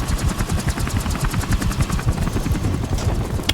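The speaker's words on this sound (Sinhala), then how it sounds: "අපිව අරන් යන්න අපේ හෙලිකොප්ටර් එක එනවා" Helicopter arriving in Call of Duty: Modern Warfare Remastered gives a loud, steady rotor thump with rapid, even chopping pulses throughout, close and alone.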